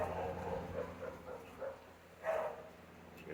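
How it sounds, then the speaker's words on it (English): Dogs bark repeatedly in the distance behind a garden where a bonsai-style bougainvillea is being pruned, short muffled yaps coming in scattered bursts over steady outdoor background noise. "Dogs have a lot to say today."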